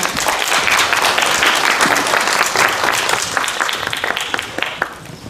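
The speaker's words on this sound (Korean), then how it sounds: "큰 박수로 모시겠습니다" Loud, dense applause from a large crowd at a presentation event, sustained throughout and slowly tapering toward the end.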